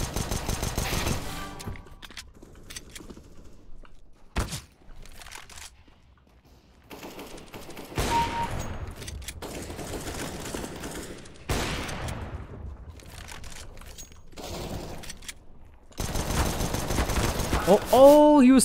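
Bursts of rapid gunfire from the shooter game CS:GO crack through a match, with loud volleys and single shots scattered across the stretch, partly under a player's talk.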